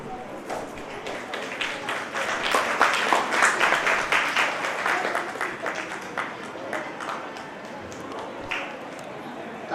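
A crowd applauds at a national Arya youth council foundation-day gathering, a dense run of handclaps that swells in the middle and fades toward the end, with a host speaking over it.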